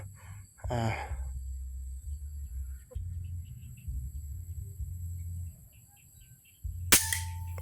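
A test shot fired at a target 36 metres away lands as a sharp, loud crack near the end, with a fainter click earlier and a low outdoor rumble running throughout.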